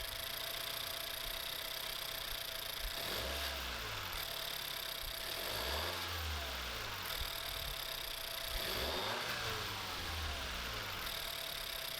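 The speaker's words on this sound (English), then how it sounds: "I did a test right here with how it sounds when you rev it with the new intake" A 2016-2021 Honda Civic 1.5T fitted with a DC Sports cold air intake, revved several times from idle. Each rise and fall of the engine note is close and clear, with no talking.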